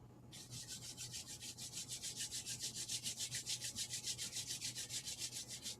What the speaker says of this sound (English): So rub your hands together.